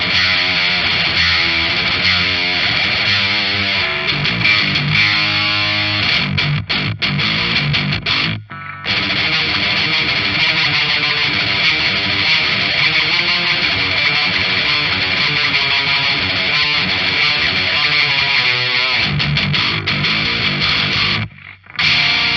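An electric guitar played through a Pepers Pedals Wendigo distortion pedal with no added boost churns out a thick, saturated, sustained riff that runs almost without a break, with only two short gaps.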